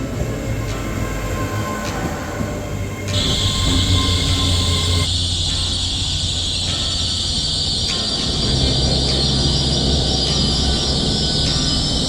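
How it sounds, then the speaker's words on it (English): A Great Western Railway train to Penzance rumbles steadily along the rails from inside a carriage, with a constant low drone and a high whine that shifts partway through. "Aboard this Great Western Railway service"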